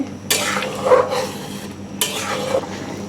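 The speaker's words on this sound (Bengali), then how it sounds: "এখন ভালো করে নেড়ে দিব, তাহলে গলা পেকে যাবে" Chicken vegetable soup thickened with cornflour is stirred in a pot, making two bursts of scraping and sloshing spoon strokes over a low steady simmer, close and clear, with no voices.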